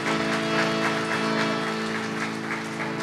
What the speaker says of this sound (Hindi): इससे कहीं ज़्यादा तालियां आप खुदा के जलाल के लिए बजाएं